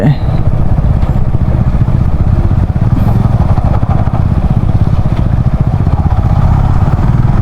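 Motorcycle engine on a rain-wet road, a steady loud drone running throughout with a constant low rumble and a rushing background, with no clear break or change in pace.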